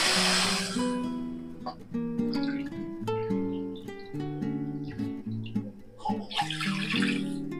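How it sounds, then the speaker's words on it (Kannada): Two cups of water poured onto sugar in a pan while making Bombay karachi halwa, a steady splashing stream with ringing pan tones that runs through nearly the whole stretch. "2 ಕಪ್ ನೀರು ಹಾಕಿದ್ದೈತ್ರಿ."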